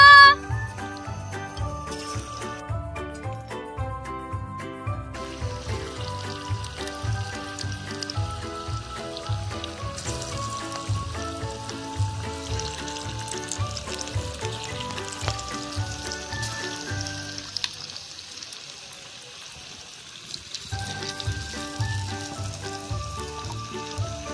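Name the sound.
jackfruit pakoras frying in hot oil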